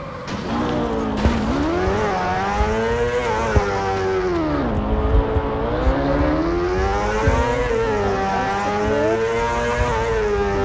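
Motorcycle racing video game engine audio: a continuous loud, high-revving whine that sweeps up and down with gear changes and throttle swells, with brief tire-squeal-like accents, no talking.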